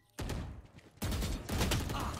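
Gunfire bursts from a first-person shooter game, two loud dense volleys with a short gap between them, close and sharp, over faint game background.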